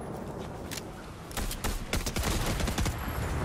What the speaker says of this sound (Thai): เขายังยิงแหละ